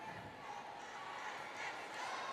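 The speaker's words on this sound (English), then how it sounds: "A majority of these guests here cheering for the Flying Titans" Volleyball crowd at a Philippine PVL All-Filipino match between Petro Gazz and Choco Mucho cheering for the Flying Titans, a faint, distant steady arena roar with scattered voices, under speech.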